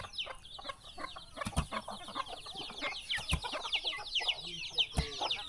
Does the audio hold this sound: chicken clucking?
yes